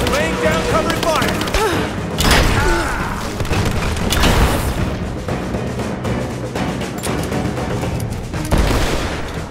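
Rapid gunfire and heavy explosions from a Rise of the Tomb Raider battle, with bursts of shots and booming impacts throughout, loud and dense, with shouted voices mixed in.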